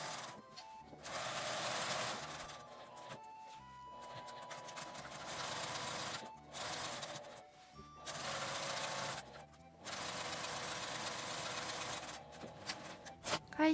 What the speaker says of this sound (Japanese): この返し口を開けて1センチの縫い代で縫います。